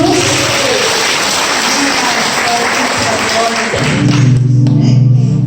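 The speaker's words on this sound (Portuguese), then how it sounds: "vamos aplaudir o Senhor Jesus" A church congregation applauds steadily throughout, dense clapping filling the space, with a voice or music entering near the end.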